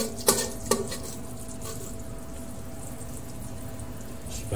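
Fried coconut residue (blondo) drained out of hot oil: two sharp clinks of a utensil against a pan near the start, then a steady soft hiss of dripping, sizzling oil, quiet and continuous.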